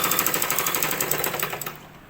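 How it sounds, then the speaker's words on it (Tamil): A sewing machine stitches along the lining edge of a blouse back piece in a fast, even run of mechanical taps that slows and stops near the end, close and alone. "எட்ஜில் தையல் போட்டுறேன்."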